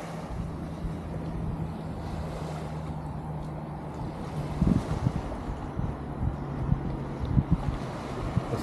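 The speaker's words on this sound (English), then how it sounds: "Listen to the waves all night." Sea waves wash onto the seafront at Whitby, a steady low roar of surf with gusty wind rumble and a few louder breaking surges toward the end, heard alone at night.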